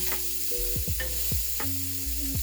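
Sausage cooking in a pot for gumbo, a continuous close sizzle with occasional stirring scrapes and clunks of a utensil against the pot.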